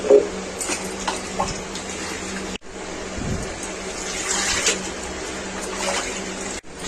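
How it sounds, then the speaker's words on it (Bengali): Running water splashes steadily as homegrown spinach and potato greens are rinsed by hand, with a few short breaks and some bursts of heavier gushing. "শাকগুলি ধুয়ে নেব ফ্রেশ করে"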